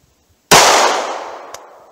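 A single sharp handgun shot firing Winchester service grade 115 grain ammunition, cold, loud and close, with a long ringing decay and a faint click about a second later.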